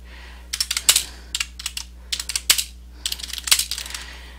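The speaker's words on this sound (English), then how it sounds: "You're going to hit the Tab key to indent, and then you start typing your paper." Someone types on a computer keyboard while formatting a paper, with quick bursts of close, crisp key clicks and a few heavier strokes, separated by short pauses and no talking.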